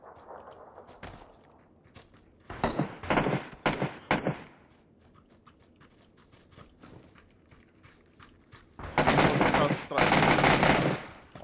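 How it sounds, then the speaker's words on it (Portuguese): Bursts of automatic gunfire in the video game PUBG, several rapid volleys of shots separated by pauses, with a quieter single crack early on and a heavy, louder burst near the end. "Estão se trocando tiro lá"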